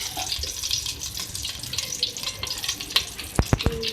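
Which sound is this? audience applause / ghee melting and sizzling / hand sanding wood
ghee melting and sizzling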